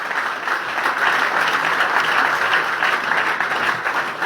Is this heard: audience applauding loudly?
yes